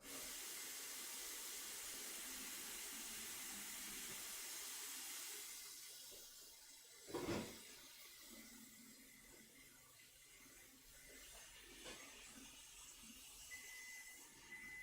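Tap water running into a kitchen sink late at night, a steady loud hiss for about six seconds that then cuts down to a faint trickle with a brief splash partway through.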